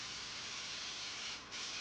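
Undercoating sprays from an aerosol-style gun into the rear wheel well of a Volkswagen bus, a steady faint hiss that drops out briefly near the end before resuming.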